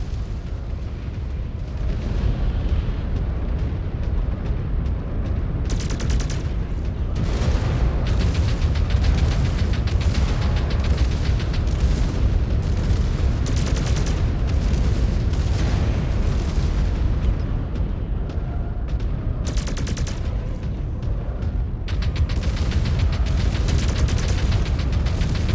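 Dense, loud mech weapons fire and explosions in MechWarrior 5: Clans combat, continuous booming and rapid bursts layered over a heavy low rumble for the whole stretch, no talking.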